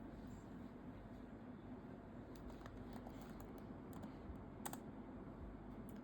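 A command being typed on a computer keyboard, a short burst of soft, quick key clicks over a steady background hum, faint and close.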